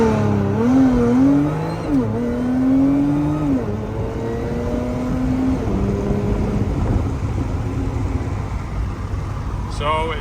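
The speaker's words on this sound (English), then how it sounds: "set up for 0 to 60, launching at 3K RPMs" Car launching hard from 3,000 RPM on a 0-60 acceleration run, engine note rising and bogging slightly, loud and continuous with a voice talking over it.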